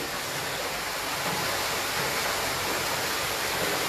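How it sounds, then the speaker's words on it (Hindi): Hot water pours steadily into a swimming pool in cold Shimla, giving a loud, dense, unbroken rush of splashing water with no pauses. "ये देखिए स्विमिंग पूल में पानी भर रहा है।"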